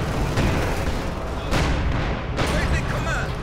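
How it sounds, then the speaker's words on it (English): Artillery shelling the center of a WWII strategy video game battle: a continuous, dense roar of booms and blasts with sharper impacts standing out, loud and unbroken throughout. "We're just seeing the center getting shelled."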